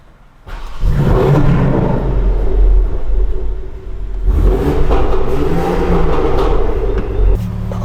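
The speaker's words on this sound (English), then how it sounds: "let's start the car for the first time since the installation and see how it sounds" A BMW M4 G82 with an Akrapovič exhaust fires up with a sharp, loud roar, then settles into a deep, rumbling idle, rising again in a second burst of revving, close by and with no talking.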